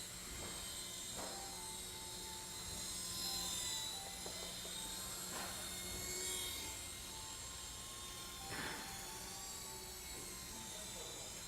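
A small Walkera X100 remote-control helicopter whines steadily nearby, its high motor pitch rising and falling as it maneuvers, with occasional soft thumps.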